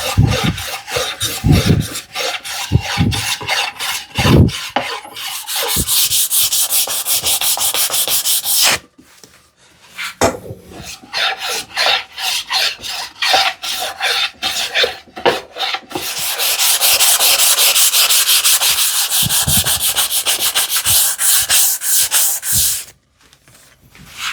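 Wooden end grain is sanded by hand with 320-grit sandpaper, rapid rhythmic scratchy back-and-forth strokes in close, loud bursts, alternating with longer continuous rubbing passes and brief pauses.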